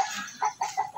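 A few quick clucks from a rooster, close by, in a brief rhythmic series.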